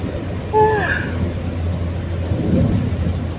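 Steady rain hisses at night in Chonburi, Thailand, over a dull low rumble, with a brief tonal squeak near the start.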